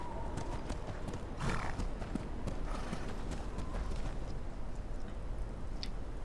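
Horses' hooves clip-clop in the Game of Thrones Kingsroad video game, with a steady run of close, distinct hoof strikes and a whinny partway through over a soft background.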